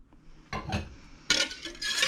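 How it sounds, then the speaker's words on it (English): Eggs and a teaspoon of vanilla whisked by hand in a bowl for brownie batter, giving two short bursts of brisk clinking and scraping against the bowl, the second louder and busier, with no talk. "Whisk some more."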